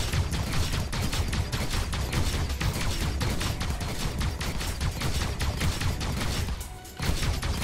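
Dense, continuous crackling and blasting of combat in Star Citizen, with a missile impact among rapid overlapping bursts and crashes, loud and sustained, briefly dipping before a final hit.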